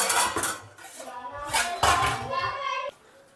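Dishes and pots clattering in a home kitchen after a meal, a few sharp metallic clinks and knocks mixed with nearby talking.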